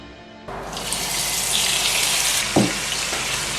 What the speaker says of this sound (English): We are going to fry the chicken that we have been marinating for 10 good minutes.